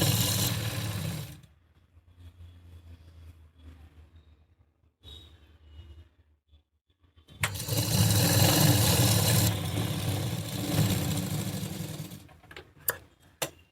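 A sewing machine runs in two bursts while stitching the hem of an A-line gown, loud and steady at the start, then stopping, with a long, busier stretch later and no talk over it.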